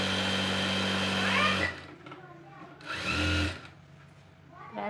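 Sewing machine stitching a cross strip on a blouse, a close, loud run that stops and then starts again for a second short burst, with quieter handling noise in the gaps.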